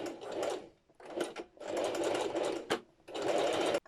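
A sewing machine stitches a centre back seam on faux fur in short bursts, its quick mechanical whirring starting and pausing several times, close and clear with no talking.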